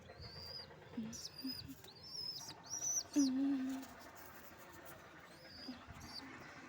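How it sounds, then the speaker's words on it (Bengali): A pigeon that cannot walk coos softly while eating, giving one low throaty coo partway through. Thin chirps from other birds sound around it, faint and intermittent, in a quiet setting. "দেখো গাইস এই পায়রাটা খাচ্ছে, মানে খেতে পারে, উঠতে পারে, কিন্তু হাঁটতে পারে না"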